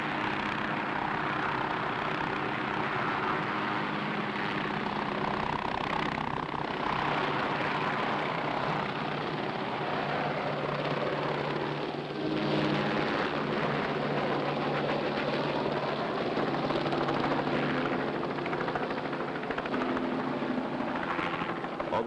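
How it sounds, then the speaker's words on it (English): Firefighting helicopters arrive over a burning forest, a steady, loud rotor drone that swells and holds for the whole stretch, with no talking over it. "Now, here come the choppers, man"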